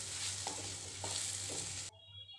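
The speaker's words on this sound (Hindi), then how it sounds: "अब हम मसालों को खूब अच्छे से छिलकों के साथ मिला करके 2-3 मिनट के लिए इनको भी हम भून लेते हैं" A ground spice mix is roasted with bitter gourd peels in a pan for stuffed karela, making a steady sizzle broken by three scraping spatula strokes before the sound cuts off abruptly.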